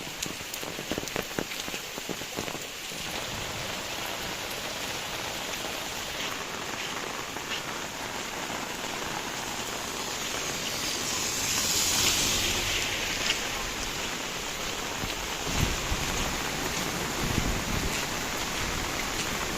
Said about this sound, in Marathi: पाऊस काय कमी होत नाही आहे